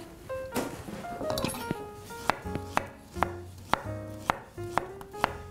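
A banana being sliced into rounds with a knife on a cutting board at home, about nine sharp, evenly spaced chops ringing out close by, with faint background noise between cuts.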